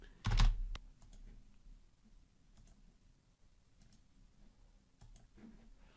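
Passphrase typed on a computer keyboard: a loud cluster of quick clicks up front, then scattered soft key taps and a couple of sharper presses, close and quiet, with no talk.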